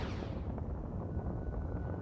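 Spaceship cannons fire continuously in the space combat game Nexus: The Jupiter Incident as a ship circles an enemy vessel, a dense, rumbling barrage of low booms with no clear gaps, steady and moderately loud.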